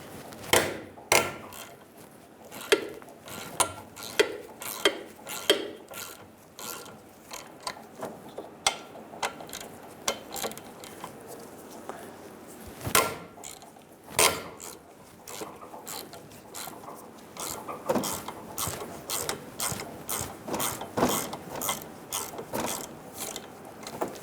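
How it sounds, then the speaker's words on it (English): Ratchet with a 7mm hex head socket loosening the front brake caliper bolts on a 2000-2007 Ford Focus, a long run of close, crisp clicking bursts repeating in irregular rhythm, no talk. "Using a 7mm hex head, we're going to remove the caliper bolts."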